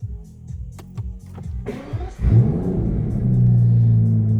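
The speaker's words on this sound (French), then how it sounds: "je vais démarrer la voiture, ça va être un peu sonore" An Aston Martin DBS Superleggera Volante engine cranks and fires up with a deep rumble, settling into a steady, loud idle after a few soft clicks.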